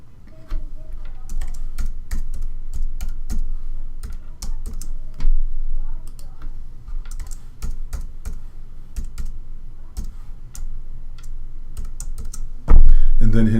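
Keys clack steadily on a computer keyboard as a password is entered, close and crisp, with quick irregular taps, a brief pause, and a louder final knock near the end.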